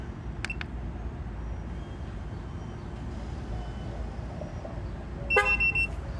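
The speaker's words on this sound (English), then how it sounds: "After you hear honk" A short car horn honk sounds near the end of a tire pressure sensor relearn on a 2016 Ford F-150, following a steady low rumble of background noise and a faint tone early on.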